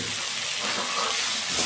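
Water is poured into a hot pan of frying cauliflower, potato and eggplant, giving a loud, steady hiss and sizzle with no talk.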